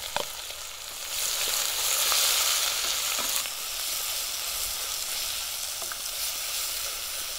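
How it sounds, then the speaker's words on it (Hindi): Onions sizzle and fry in a pan for Bihari mutton curry, a steady bright crackling hiss with occasional stirring clicks and small pops, close and unaccompanied by talk. "प्याज एकदम बढ़िया सा फ्राई हो रहा।"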